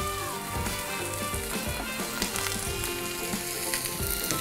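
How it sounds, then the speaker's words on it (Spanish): Iberian pork pluma fries in a pan in its own rendered fat, giving a steady close sizzle with scattered pops and crackles throughout. "vamos a coger la pieza y la vamos a poner en la sartén. Con su propia grasa se tiene que ir cocinando"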